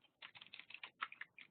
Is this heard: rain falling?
no